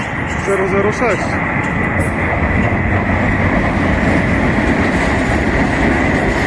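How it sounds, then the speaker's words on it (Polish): An Intercity train hauled by the EP09 electric locomotive EP09-006 rolls in along platform three at Wrocław Główny station, giving a loud, steady rail rumble and rolling-stock roar that runs through the whole stretch. "Intercity Matejko ze Szczecina Głównego do Krakowia Głównego. Wyjeżdża na peron trzeci a na czele EP09006."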